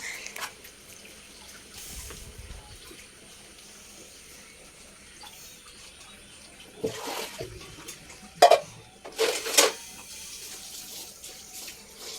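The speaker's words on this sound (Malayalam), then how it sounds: "കുറച്ച് പാത്രങ്ങളുണ്ടായിരുന്നു ഈ സമയത്ത് കേട്ടോ അതുമെല്ലാം അങ്ങ് കഴുകി വെക്കുകയാണ്" Running tap water splashing, with a few louder bursts of water and clinks of dishes being rinsed toward the end.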